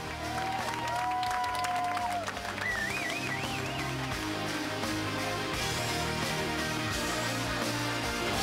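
An outdoor crowd applauds the winners at a personal-achievement camp as they climb onto a truck. The continuous clapping is mixed with gliding whistles and cheering tones, and a voice is heard among it.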